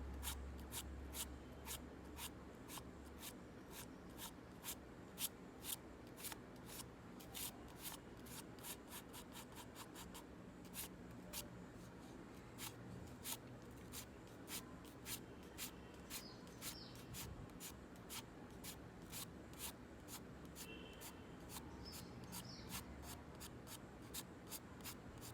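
Graphite pencil scratching steadily across paper while drawing fur, a continuous soft rasp of many short, quick strokes held close and quiet throughout, with no speech.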